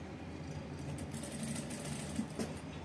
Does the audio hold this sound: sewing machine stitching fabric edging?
yes